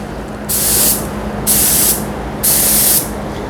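Three loud, even hissing bursts, each about half a second long and evenly spaced, come from a Sata spray gun coating a cabinet face frame at close range.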